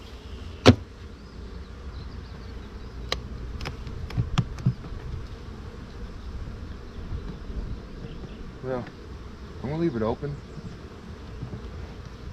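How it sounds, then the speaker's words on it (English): Honey bees hum steadily around an open hive at a farm apiary, a continuous close buzz with a few sharp clicks and knocks of hive parts; a person speaks briefly over it. "Ooh, you can hear the bees."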